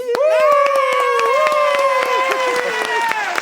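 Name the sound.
audience applause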